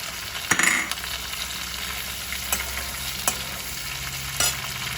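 Capsicum, onion and green chili stir-fried in a hot pan, a continuous steady sizzle with a few sharp clinks of a spatула against metal scattered through.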